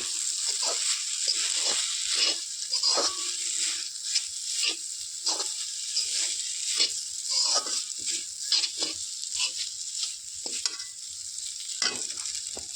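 Sevai with coconut powder frying and being stirred in a pan, a steady close sizzle punctuated by scraping stirs, with no talking.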